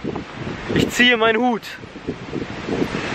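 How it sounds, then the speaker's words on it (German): Wind gusts buffet the microphone in low rumbling bursts while someone speaks briefly over the noise. "Jetzt wird es windig"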